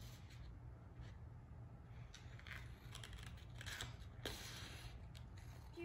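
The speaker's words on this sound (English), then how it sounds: "We're gonna start out by cutting with the scissors." Scissors cut through paper for a pinwheel craft in short, faint snips spaced across a quiet room with a low background hum, no talking.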